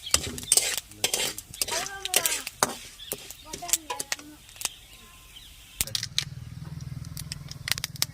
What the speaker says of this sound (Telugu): తాలింపు అయితే ఫ్రై అయిపోయిందండి